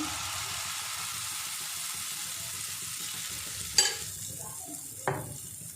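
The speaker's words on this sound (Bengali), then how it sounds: "এবার আমি 1 হাতা ব্যাটার আমি দিয়ে দেবো এর মধ্যে, প্যানের মধ্যে।" Semolina batter sizzles and hisses in a hot frying pan, a steady close crackle, punctuated by two brief sharp clatters near the end.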